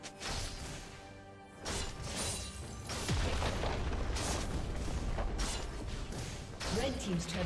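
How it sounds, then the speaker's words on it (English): A turret is destroyed in League of Legends during a mid-lane Talon versus Yone match: a heavy boom and crash, followed by sustained rumbling game sound and a voice speaking over it. "Red team's turret has been destroyed."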